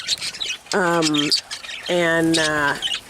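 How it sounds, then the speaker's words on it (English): A cinnamon pet bird in a divided flight cage gives two drawn-out, harmonic squawking calls close by, each lasting under a second, with softer chirps and cage noise around them. "She's a cinnamon, big fluffy head like her daddy, Scruffy. She's a beautiful bird."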